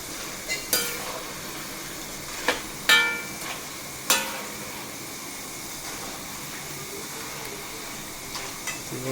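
Jackfruit chips frying in oil are stirred now and then, with a few sharp clinks and scrapes of a utensil over a soft continuous sizzle, close by and without talk.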